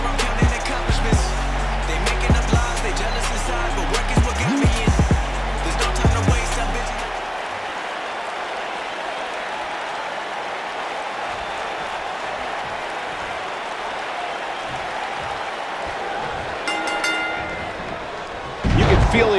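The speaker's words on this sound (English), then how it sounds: "And Michael, it sounds to me like this crowd already picked the one who they want to win this match" Arena crowd in the WWE 2K19 wrestling game cheers loudly at first, mixed with thuds and bangs, then settles into a steady murmuring roar before a sudden loud swell at the end.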